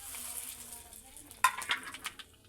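Cumin and mustard seeds sizzling in hot oil during biryani-style cooking, a faint low sizzle with a sudden sharp clink and brief stirring scrapes near the middle.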